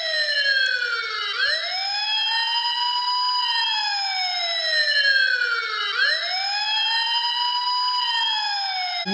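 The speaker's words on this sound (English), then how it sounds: "the fire engine siren sounds." Fire engine siren sound from an E-Blox electronic circuit builder kit, a loud synthetic wail sweeping up and down in two slow, even cycles, alone with no talking.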